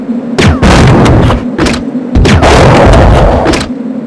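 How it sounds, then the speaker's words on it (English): Flame rounds from a grenade launcher in Resident Evil Code: Veronica X, two loud booming shots with crackling, burning bursts and thuds between them, close and with no voice over them. "Now let's try flame rounds."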